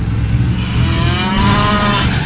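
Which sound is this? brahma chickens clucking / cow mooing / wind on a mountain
cow mooing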